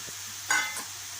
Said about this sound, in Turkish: Kavuruyorum.